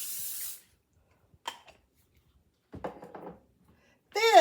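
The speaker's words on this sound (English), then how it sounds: "get you a cookie sheet and get you some spray oil, and go ahead and spray that down really good." Spray oil from a can hisses onto a cookie sheet in brief bursts, with short clattering handling sounds in the quiet gaps between them.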